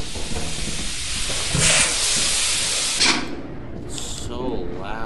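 Steam pipes hiss loudly and continuously in the video game Lethal Company, a broad rushing noise with two stronger surges, while voices chatter faintly underneath.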